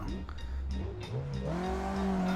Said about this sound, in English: I thought you can do some sick skids in a stock Miata